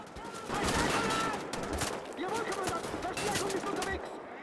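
Rapid gunfire from a Wolfenstein: The Old Blood firefight, dense bursts of shots and explosions crackling continuously and loud throughout, with clanks and game effects layered in.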